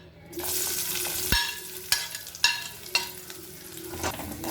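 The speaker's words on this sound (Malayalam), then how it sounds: "ഇനി നമുക്കിതിലേക്ക് ചെറിയ ഉള്ളി ഇട്ട് കൊടുക്കാം" Shallots dropped into hot oil, with curry leaves just removed, for a Kerala chilli chammanthi; a steady close sizzle with several sharp stirring clinks and scrapes of a spoon against the pan, no talking.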